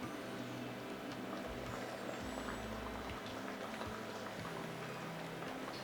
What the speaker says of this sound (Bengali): রান্নাটি ফুটে উঠেছে